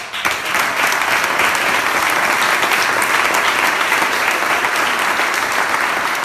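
Dense, steady applause from a large audience at a vermouth awards ceremony, loud and sustained throughout with no speech over it.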